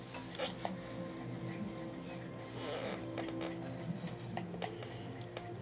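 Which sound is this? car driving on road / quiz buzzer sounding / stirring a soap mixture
stirring a soap mixture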